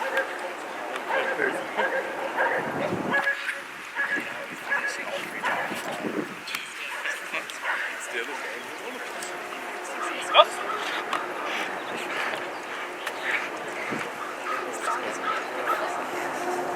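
A police K-9 dog barks and yips repeatedly close by during a bite demonstration, with whimpers mixed in, over busy outdoor noise and people talking.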